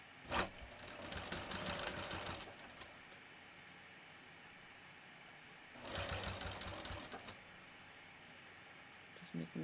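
A sewing machine stitches a wallet card slot in two short bursts of rapid mechanical whirring, each about two seconds long and separated by a quiet pause, with faint handling noises near the end.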